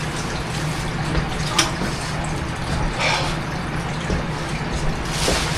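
An oscar fish thrashes and splashes water nearby, with irregular sloshing and splattering bursts over a continuous watery background.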